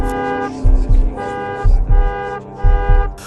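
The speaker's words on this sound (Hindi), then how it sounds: "कार ने जोर से हॉर्न दिया" Cartoon car horn honking loudly and insistently in a Hindi horror cartoon, three pairs of sharp toots in a steady rhythm over a music-like background.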